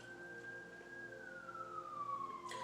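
An emergency vehicle siren wails outdoors, a single tone slowly gliding downward as it passes, moderately distant over a low background hum.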